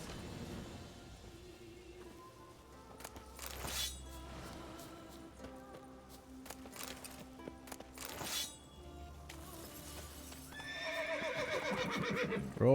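Roach, a horse in The Witcher 3: Wild Hunt, gives several loud whinnies and snorts between hoof clops, along with a glassy shattering and rising clatter toward the end.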